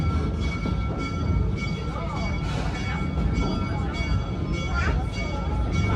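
A roller coaster train at Busch Gardens Tampa rumbles steadily into the station, a continuous loud rolling roar with faint clatter, heard without talk over it.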